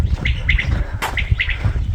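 A quail sings close by in a village setting with repeated short, bright chirps, several in quick pairs, over low background noise.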